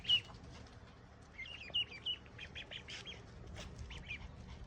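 Four ducks call in short faint chirping bursts, scattered quacks and peeps over a low background, with no talk.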